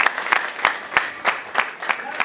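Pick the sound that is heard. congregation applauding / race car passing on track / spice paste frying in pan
congregation applauding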